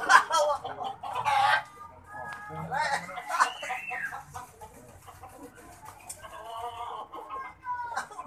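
Rooster clucking in a rural yard, a few short clucks and calls up close, mixed with other fowl and background chatter as people talk nearby.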